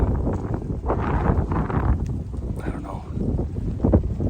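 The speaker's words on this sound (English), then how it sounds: "It is really windy, very cold" Strong, very cold wind of about 15 mph buffets the microphone outdoors during late-season bowhunting, a steady low roar with gusty surges, while a voice talks over it.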